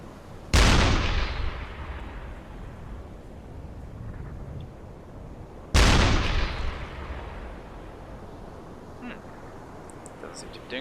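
Deck gun of a U-boat in a submarine video game firing high explosive shells: two sharp, loud booms several seconds apart, each trailing off into a long rumbling decay over faint sea ambience.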